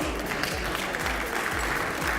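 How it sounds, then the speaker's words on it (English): Audience applause at a tourism awards ceremony honouring a 52-year awardee, a steady, even spread of clapping from a seated crowd throughout, with a low rhythmic musical thump underneath. "Give her a round of applause, please."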